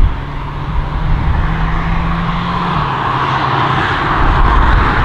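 A Hyundai Kona N drives hard on a country B road with its gearbox on a quickened custom setting, the engine roaring loud and steady as a quick downshift drops the pitch partway through.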